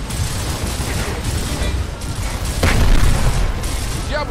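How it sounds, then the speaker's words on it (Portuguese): Loud grenade blast in a Gears of War Remastered co-op firefight, a heavy boom swelling near the end over a dense backdrop of gunfire and rumbling combat noise. "Granada nisso!"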